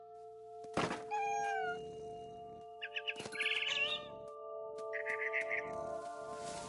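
A video game cat meows several times in short, rising cries over a steady hum of background music, with soft thumps and brief bird chirps in between.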